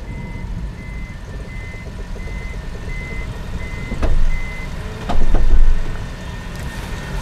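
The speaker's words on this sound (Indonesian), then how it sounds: "Sekarang kita tutup pintunya." A Toyota Roomy's powered rear door closes to a steady run of electronic warning beeps over a low motor hum, with two heavier thuds near the end as it shuts.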